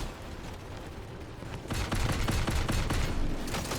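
Rapid bursts of heavy weapon fire from a Fukibari in the Crossout vehicle combat game, a dense crackling volley building after a quieter stretch of background rumble.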